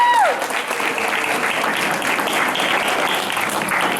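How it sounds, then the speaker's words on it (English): A crowd applauds steadily, dense clapping that holds at a lively level throughout after a brief whistle-like tone at the start. "big round of applause for that"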